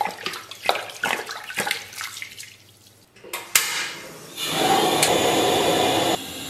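Tap water pours steadily into an iron pot holding half a pig head, a broad rushing stream that follows a stretch of clattering and knocking and then cuts off.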